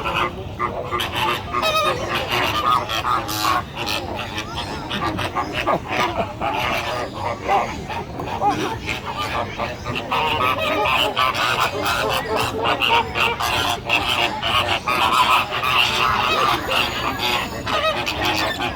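A large social flock of flamingos honks and calls continuously, a loud, overlapping chorus of nasal goose-like cries close by.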